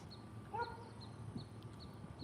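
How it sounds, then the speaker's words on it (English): A border collie barks once, faint and distant, in quiet open countryside, the single short bark standing alone against low background hum. "that border collie that's barking"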